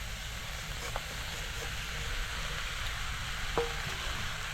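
Spices and roasted salted mackerel sauté in a pan for a Konkan-style chutney, giving a soft, steady sizzle with occasional faint clinks of stirring, quiet and close.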